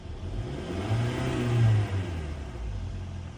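A 2014-2018 Hyundai Sonata engine with a flashing oil light is revved once near the microphone, rising smoothly to a peak and falling back toward idle, with a steady engine hum throughout.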